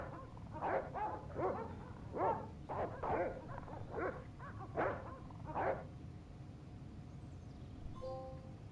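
Dogs barking in the Broken Sword video game, a run of about ten sharp barks in an uneven rhythm, moderately close but fairly quiet, followed by a brief electronic tone.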